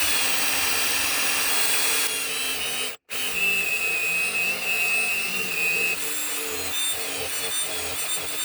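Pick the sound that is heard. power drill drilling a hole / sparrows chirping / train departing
power drill drilling a hole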